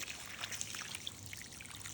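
Water poured onto a potted water spinach plant, a steady gentle splashing trickle that runs continuously at low volume with no talking.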